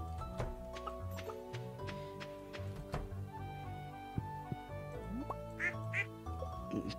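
A duck in the farming video game Stardew Valley quacks several times amid cheerful background game music and small tick-like sound effects, the quacks standing out clearly and close.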